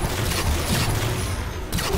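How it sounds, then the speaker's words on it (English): An incinerator cannon shot in Halo 4 roars as a loud, dense, continuous blast of fiery noise filling the moment, with a brief dip before surging again. "Oh, that's an incinerator cannon shot."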